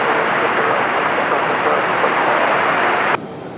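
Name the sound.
airplane taking off from runway 23 right at RDU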